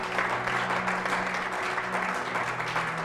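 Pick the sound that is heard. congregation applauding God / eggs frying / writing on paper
congregation applauding God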